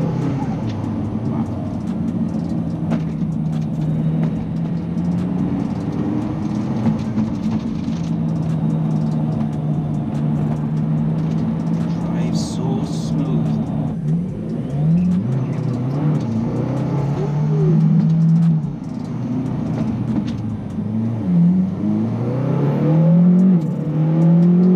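A McLaren Speedtail hypercar drives with a steady engine drone that shifts pitch as it accelerates and changes gear, loud and close from inside the cabin.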